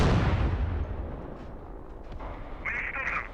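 A main battle tank's gun fires in the DCS World combat simulator, a sudden boom that decays over a few seconds, followed by faint mechanical whirring, with no talking.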